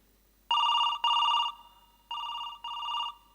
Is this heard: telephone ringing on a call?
yes